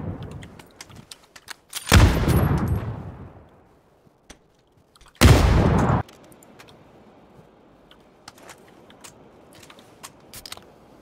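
Gunfire in PlayerUnknown's Battlegrounds, two loud close bursts of shots separated by a few seconds of quiet, then scattered faint distant pops and clicks.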